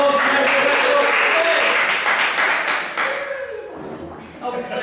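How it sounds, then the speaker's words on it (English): Audience clapping for stage hypnosis show volunteers heading to the stage, a loud dense burst of applause that thins out and fades toward the end. "Give them a round of applause to make way towards the stage"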